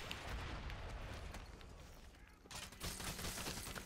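Rapid turret gunfire from the multiplayer video game Drawn to Death, a dense continuous barrage of loud crackling shots that swells sharper and brighter partway through, with no voices over it.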